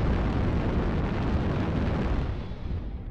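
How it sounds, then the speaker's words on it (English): Missile explosions in the MechWarrior video game erupt as a loud, continuous roaring blast with deep rumble. The sound sustains for a few seconds, then eases slightly toward the end, with no voices over it. "Incoming missile."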